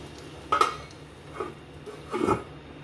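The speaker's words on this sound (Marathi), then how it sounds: "चला आता 5 मिनिटं मस्त झाकण ठेवून घेऊया" Lid set on a pan of dry potato stir-fry: two or three close metallic clinks and clatters of the lid against the pan, with quiet pauses between.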